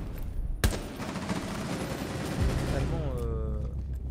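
C4 charge detonating in Rainbow Six Siege during a collegiate esports match: one sharp, close bang, then a sustained crackling rumble with brief rapid bursts, under commentators' voices.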